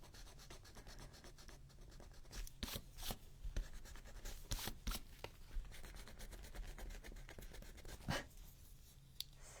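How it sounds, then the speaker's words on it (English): Rubbing to erase a chalk line on a handmade page, short scratchy strokes of varied strength repeating in an uneven rhythm, close and quiet with no voices. "Let's see if I can erase that chalk line."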